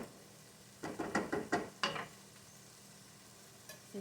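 A pound of ground beef goes into a skillet, giving a short run of scraping, stirring and sizzling bursts over about a second, then a quiet, faint pan hiss with one last small clatter near the end.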